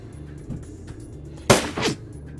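A single sharp gunshot cracks out in the Shadowrun Returns Dragonfall video game, quickly followed by a softer trailing burst over a low ambient game soundtrack.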